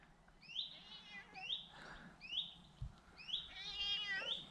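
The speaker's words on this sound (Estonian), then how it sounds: "Mingi hull vihane kass." A cat meows repeatedly in short, rising, plaintive cries, several in a row at moderate distance over a quiet background.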